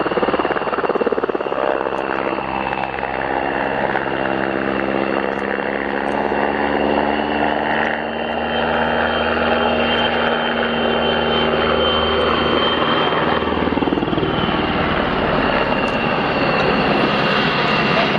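A PZL Sokol twin-engine multi-purpose helicopter flies past at an air show, a loud continuous turbine whine and rotor drone that holds steady for the whole stretch.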